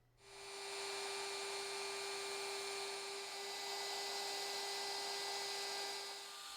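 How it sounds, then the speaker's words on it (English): A router with a V-bit cutting a groove along the inside edge of a cherry wood mirror frame, a steady high whining hum with a constant pitch that holds evenly throughout, close and fairly loud, without speech. "we're using a router with a V-bit mounted in it"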